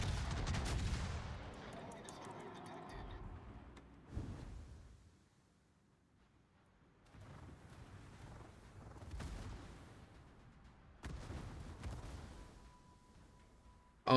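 Enemy warships open fire in a naval combat video game, heavy booming salvos arriving in scattered bursts with rumbling decays and quiet gaps between volleys.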